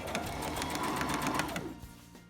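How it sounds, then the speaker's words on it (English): A sewing machine stitching a pleat into a T-shirt runs at a steady rapid rhythmic chatter for about a second and a half, then stops and leaves a brief fading mechanical tail. "you're going to fold it like this and sew right along here all the way round"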